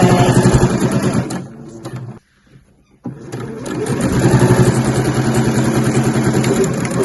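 A sewing machine stitches the lining seam of a weekender bag, a loud rapid mechanical whirr that stops for under a second, then resumes and runs steadily, with no talking.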